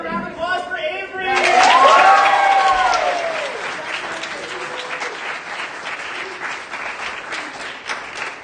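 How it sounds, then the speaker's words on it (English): An audience at an improv comedy recruitment show claps and cheers for an improviser, a loud swell of whoops and applause that peaks early, then settles into steady clapping. A voice speaks at the very start. "Another round of applause for Avery!"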